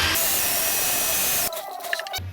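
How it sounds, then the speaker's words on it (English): A power drill bores into a broken muffler bolt on a Honda lawn mower, a loud, steady whirring grind for about a second and a half before cutting off into quieter clicks and handling noise. "It's drilling real nice though."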